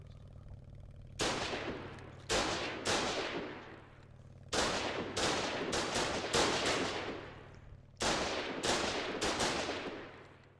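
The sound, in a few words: garrison building defenses firing, from video game Foxhole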